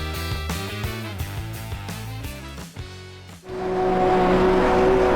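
GTE race cars line up on the Nordschleife grid in a racing video game, engines revving up through rising gear-like tones before a sudden burst into a loud, dense roar of the full field.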